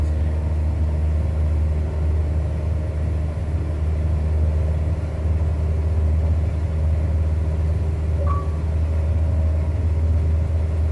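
A single running aircraft engine at takeoff power in Microsoft Flight Simulator gives a steady, loud, low droning rumble with no change in pitch, heard alone throughout.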